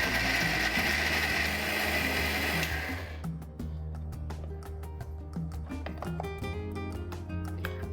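A kitchen mixer grinder whirs loudly as it blends onion, 7-8 garlic cloves and coriander into a paste, then cuts off after about three seconds, leaving faint clinks and rattles.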